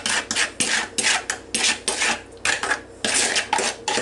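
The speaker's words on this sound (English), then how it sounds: "So we will just give this a stir." Fruit salad of melon and grapes with dressing being stirred in a bowl, a series of loud, close scraping and rubbing strokes repeating roughly every half second, with no talking.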